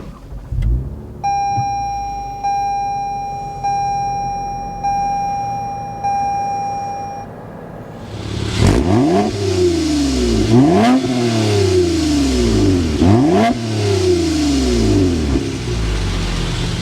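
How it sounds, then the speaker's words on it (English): Toyota Camry TRD V6 with 301 horsepower and a catback exhaust: a steady in-car warning chime first, then the engine fires and revs hard several times in rising and falling bursts, loud and close. "start up this V6, 301 horsepower, so you could hear that catback exhaust note."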